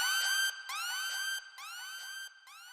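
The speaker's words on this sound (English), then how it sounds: "I obviously had to add in this Kill Bill siren." A Kill Bill-style siren sound effect placed in a hip-hop beat, rising and falling in repeated bright wailing sweeps, loud and close, heard alone without drums or talk.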